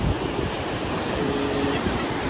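Sea waves washing onto a fine sandy beach at Çakraz near Amasra on a somewhat choppy day: a constant broad wash of surf mixed with wind buffeting the microphone, fairly loud, with no talking.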